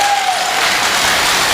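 A short burst of dense applause from guests at a circumcision celebration, loud and continuous with no gaps, after a dance team's performance.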